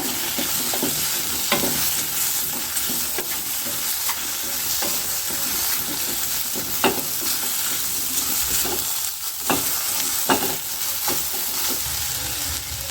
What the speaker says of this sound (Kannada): ಈಗ ಚೆನ್ನಾಗಿ ಹೀರೆಕಾಯಿ ಒಂದು ಎರಡರಿಂದ ಮೂರು ನಿಮಿಷ ಎಣ್ಣೆಯಲ್ಲೇ ಬಾಡಿಸ್ಕೋಬೇಕಾಗತ್ತೆ